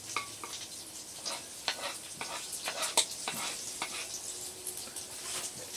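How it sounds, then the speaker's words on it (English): Bacon crisping in a pan beside blackened catfish, with a steady close sizzle broken by sharp pops and crackles, alone without voices. "they are crisping up pretty nicely"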